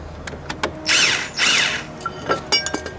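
A power drill with a 15mm socket backs out bolts in two short whirring bursts, surrounded by scattered metallic clicks and taps.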